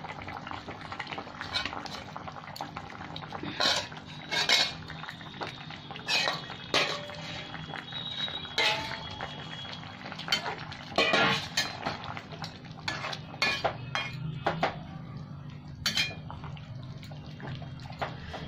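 Fish pieces lifted from a simmering Bengali fish curry with potato and aubergine, utensils clinking and scraping against the pan in scattered, close taps over a soft bubbling, watery background.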